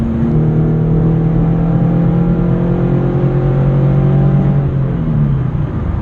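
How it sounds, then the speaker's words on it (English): A Subaru BRZ or Toyota FR-S sports car's Magnaflow catback exhaust rumbles loud and steady with a deep, growly tone, its pitch holding through the revs before easing off near the end. No voices. "still got a real good sound. It sounds growly."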